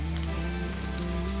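Capsicum and onion frying in a pan, a close, steady sizzle with a dense crackling texture that continues unbroken.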